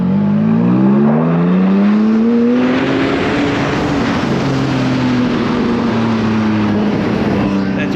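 A car with a straight-pipe exhaust and an over-axle exhaust modification revs loudly and close up, its engine note rising and falling steadily throughout, with no talk.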